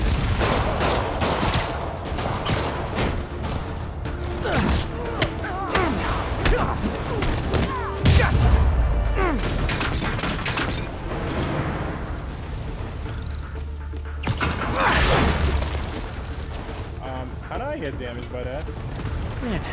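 Rockets firing and exploding in rapid barrages in Marvel's Spider-Man, dense bursts and heavy booms, some deep thuds, filling the whole stretch loudly with a voice speaking at times amid the blasts.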